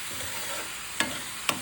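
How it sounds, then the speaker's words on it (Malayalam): Beetroot thoran cooks in a pan under a steady low sizzle, broken by two sharp spoon clinks as it is stirred, close by with no voices. "ഇടയ്ക്കിടയ്ക്ക് ഒന്ന് ഇളക്കി ഇട്ട് കൊടുക്കാൻ മറക്കരുത്"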